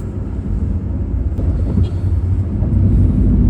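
A Wuling Confero DB car gives off a continuous low rumble with irregular thudding clunks, loud and close throughout, like cabin noise while driving.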